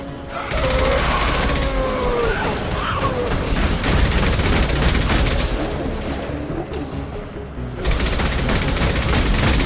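Dense, sustained gunfire from a Mass Effect 2 battle on Horizon rolls through nearly ten seconds, loud and continuous, with a brief lull near the eight-second mark before another heavy burst.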